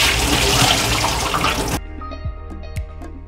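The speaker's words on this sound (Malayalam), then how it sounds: "അപ്പോൾ നമ്മളുടെ കുറച്ച് ഫ്രഷ് വാട്ടർ ഒഴിച്ചു." Fresh water pours steadily from a tap into a sink for washing, splashing loudly for a couple of seconds before shutting off, followed by a few faint drips and clinks.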